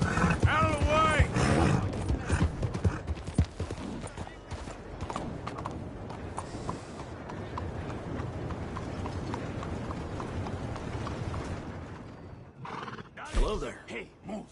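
Horse hooves clip-clop steadily with repeated neighs and whinnies from a horse in the Red Dead Redemption II video game, loud and close, mixed with game sound effects and some speech.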